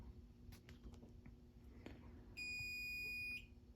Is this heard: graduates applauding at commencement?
no